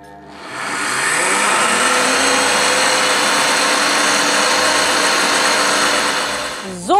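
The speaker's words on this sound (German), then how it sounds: "Also die Linsen müssen richtig schön klein gemahlen werden" A blender grinds lentils into a creamy paste at full speed, a loud, dense whirring roar that ramps up quickly, holds steady for several seconds, then winds down with a short clatter at the end.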